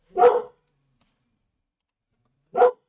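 Two separate, sharp barks from a dog nearby indoors, one at the start and another after a long silence, each brief and moderately loud.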